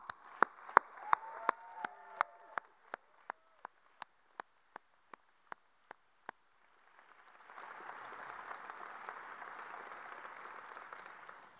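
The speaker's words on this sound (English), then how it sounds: "a loud applause for them." At a Bridgestone World Solar Challenge ceremony, a few slow, separate hand claps ring out sharply and die away, then after a pause a wider wash of crowd applause rises and holds at moderate volume.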